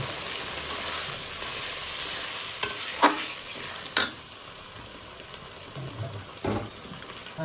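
Spices with sour curd (yogurt) being fried and stirred in a pan: a steady sizzle broken by several sharp scraping strokes of a spatula, close and fairly loud, no voices.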